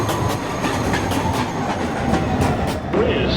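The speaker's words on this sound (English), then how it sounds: "Uptown Local 1 train to Richter Street. Approaching the station" A New York subway Uptown Local 1 train pulls into an underground station at night, a loud continuous rumble with rhythmic clickety-clack of wheels over rail joints and a faint squeal near the end.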